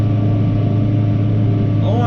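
Combine harvester engine running steadily at about 1200 to 1300 rpm during a wheat harvest, a constant close, loud low drone with no change in throttle.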